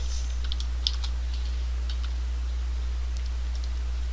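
Faint, scattered keystrokes on a computer keyboard: a handful of light clicks in an uneven rhythm over a steady low electrical hum, no voices.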